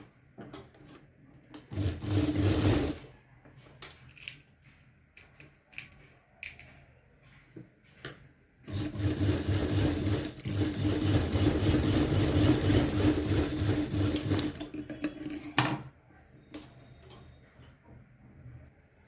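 Sewing machine stitching lined blouse fabric with a strip, two runs of steady mechanical whirring, a short burst and then a longer stretch, separated by quieter handling clicks.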